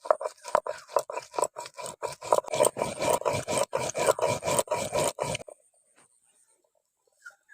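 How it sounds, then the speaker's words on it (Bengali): Green chillies and cumin seeds being ground into paste on a grinding stone, a loud, rhythmic rasping scrape repeated in quick strokes for about five seconds before it stops into near silence. "এখন কাঁচা লঙ্কা আর জিরে একসঙ্গে বেটে নিচ্ছি।"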